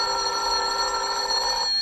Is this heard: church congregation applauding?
no